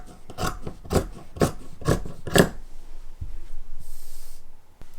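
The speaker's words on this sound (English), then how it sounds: "And here I'm going to cut the back pant line." Scissors snip through fabric while cutting pajama pant pieces, five rhythmic crunching cuts close by, followed by softer rustling and a faint hiss.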